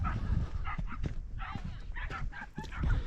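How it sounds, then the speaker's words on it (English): Several dogs bark and yip out on the open Pennine Way moor near the Castleshaw reservoirs, a pack of about seven or eight. The barks come in short, irregular bursts at a moderate distance over steady wind noise. "Like the packs of dogs up here."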